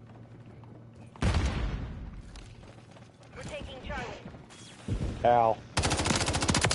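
Machine gun bursts and gunfire in a Modern Warfare III beta match, sharp loud volleys starting abruptly and returning in bursts, with a short pause between them and voices calling out over the shooting.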